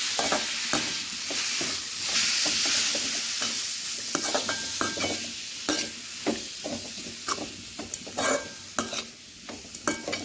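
Snake gourd stir-fry sizzles and fries in a pan while a utensil stirs and scrapes repeatedly, a steady crackle with frequent close scraping clicks.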